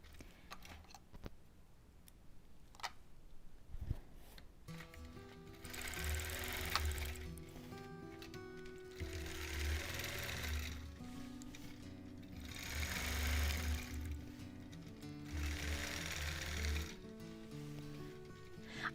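A quilting machine stitches a Double Wedding Ring quilt topper, starting with scattered clicks and ticks, then running in rhythmic mechanical bursts of rapid stitching with short pauses, close and moderately quiet.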